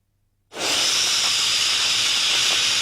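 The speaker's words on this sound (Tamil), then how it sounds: "குக்கர் கத்துது" A kitchen pressure cooker lets out a sudden loud steam whistle that starts abruptly after a brief silence and hisses steadily and close by without pause.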